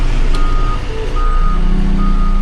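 A big truck's reversing alarm beeps steadily as the rig backs in at night, loud and close over a constant low engine rumble.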